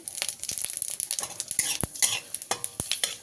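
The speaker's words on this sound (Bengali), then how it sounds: "আর দিলাম পাঁচ ফোড়ন" Panch phoron, the Bengali five-spice mix, hisses and spatters in hot oil for a tempering, a busy close crackle broken by repeated clicks and scrapes of a spoon in the pan.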